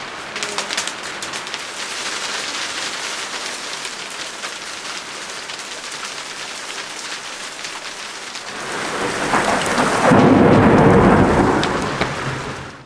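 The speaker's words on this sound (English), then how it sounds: "it sounds like hailstone" Hail falling on a sailboat during a thunderstorm, a dense crackling patter of ice pellets and rain that swells into a heavier roaring downpour near the end, with low thunder rumbling and no talking.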